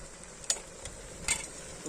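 Pumpkin and duck meat frying together in a pot outdoors, a low sizzle broken by two sharp stirring scrapes of a utensil.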